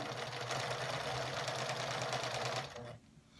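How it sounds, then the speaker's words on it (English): Sewing machine chain sewing quilting pieces, a steady fast mechanical whir and stitching rattle running close and loud for about three seconds before stopping, leaving quiet room tone. "is kind of chain sew them so that they go quicker. Sew them all together."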